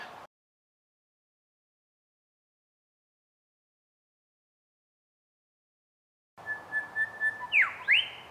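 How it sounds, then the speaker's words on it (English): After a long silence, a single grey shrike-thrush sings a clear whistled phrase of rising and falling notes in the morning, fairly close, over faint background noise. "Love to hear them in the morning, and that's the grey thrush."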